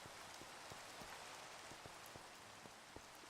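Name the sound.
rain falling in the video game Minecraft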